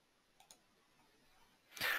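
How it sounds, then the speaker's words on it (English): Two faint, quick mouse clicks close together in a quiet room, followed a moment later by a short burst of breathy noise. "I'm going to click"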